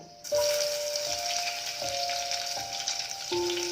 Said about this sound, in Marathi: तेल हे चांगलं तापून घ्यावं. त्यानंतर ठेचलेली लसूण टाकावी.